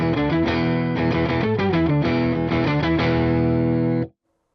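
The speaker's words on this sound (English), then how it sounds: "Putting in the octave with everything at noon, sounds like this." An electric guitar running through an octave pedal with every control set to noon, thick layered tones above and below the played notes, a continuous loud passage of chords and melody lasting about four seconds before cutting off.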